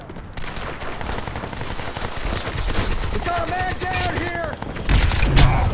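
Rapid gunfire and shotgun blasts in the video game Crysis 2 on a Skyline team deathmatch map, sounding as dense, continuous automatic fire with a heavier burst near the end, close and loud, while a voice talks briefly over it.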